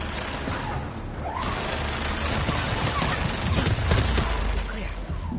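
Turret gunfire in the Mass Effect 2 video game: dense, crackling bursts and heavy impacts blend into a continuous loud battle din, swelling slightly toward the end.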